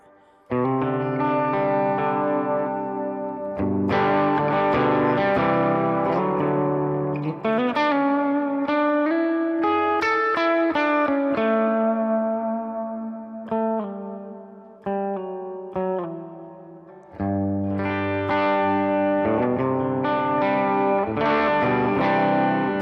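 Electric guitar played through a pedalboard at its basic tone with a little reverb, Aspen One GE and Solodallas CD65 pedals in the chain, outdoors; sustained chords and single notes ring loud and steady over about twenty seconds, with brief pauses between phrases.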